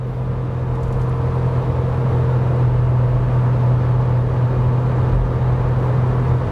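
A 2014 Nissan Note at full throttle gives a steady, droning engine hum with a low rumble that holds constant and slowly climbs, heard alone from inside the car.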